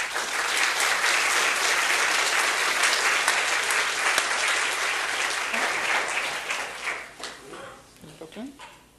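An audience at a talk on Israel bursts into steady, full applause, a thick wash of clapping that holds for several seconds, then thins and fades as a speaker begins.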